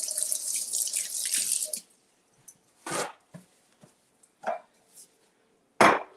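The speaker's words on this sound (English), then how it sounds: "I'll wash my hands." Tap water runs steadily into a kitchen sink for about two seconds while hands are washed, then stops, leaving a few scattered splashes, drips and handling noises.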